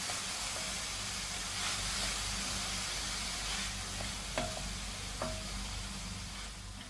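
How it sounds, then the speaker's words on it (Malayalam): Chopped onions sautéing in a pan for chicken cutlet, a steady close hiss and sizzle with a few faint clinks of a spoon stirring, no talking. "ഇനി നമുക്ക് ഇതിനൊന്ന് സോട്ട് ചെയ്തെടുക്കാം."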